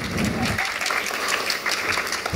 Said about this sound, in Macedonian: Процедура оди прво аплауз